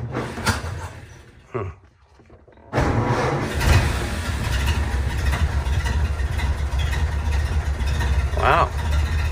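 A 1931 Ford Model A engine is started with the choke pulled in cold temperatures; after a short cranking burst and a brief lull, it catches and settles into a loud, steady running idle.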